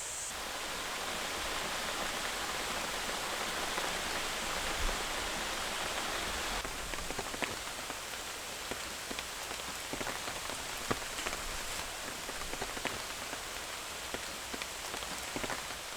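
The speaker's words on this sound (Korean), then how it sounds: "비 오는 날 또 좋은 거는 이 나뭇잎들이 빗방울 받아내는 소리가 다 들리잖아요." Rain falling on tree leaves, a dense, steady patter of countless drops close by with a continuous hiss, uninterrupted and without voices.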